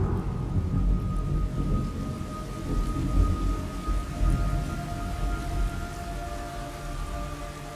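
Heavy rain pours steadily in the Metal Gear Solid Delta jungle while low thunder rumbles and rolls through the scene, loud and continuous with no voices over it.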